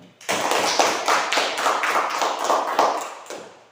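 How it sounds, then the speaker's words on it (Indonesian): A school class claps hands together in a short, loud burst of rhythmic, patterned clapping with sharp repeated beats, heard up close and alone. "Tepuk tangan"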